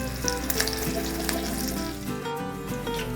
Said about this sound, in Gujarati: ત્યારબાદ આ લીલા મરચાંમાં સ્લીટ કરીને તેને ફ્રાય કરી દઈશું